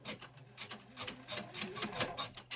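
A Janome MC500e embroidery machine with a magnetic hoop stitches on a kitchen dish towel, giving a faint, rapid, rhythmic ticking and rasping close by.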